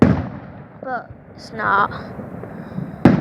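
Fireworks at Queens Park give distant booms and pops under a noisy outdoor crowd, with a sharp loud bang near the end. People talk and a voice sings briefly.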